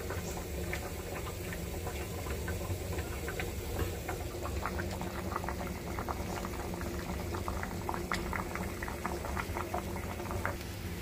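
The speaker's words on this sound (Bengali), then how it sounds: "ভাত বলক এসে পড়তেছে" Rice boiling in a pot for a home lunch, a steady bubbling roil with dense liquid popping and gurgling that runs continuously and evenly throughout, close and moderately loud, with no voices.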